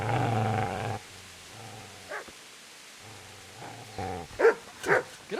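Dog in the medieval video game Kingdom Come: Deliverance lets out a long low growl, then short snarls and a few sharp barks and yips, close and fairly loud.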